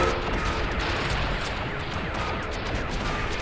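Dense, continuous gunfire from the video game Cortex Command, a steady barrage of overlapping shots and impacts that fills the whole stretch at a loud, even level with no pauses.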